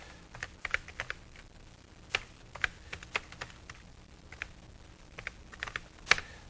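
Light, irregular keystrokes tap on a computer keyboard, close and fairly quiet, with scattered clicks and short pauses between bursts of typing.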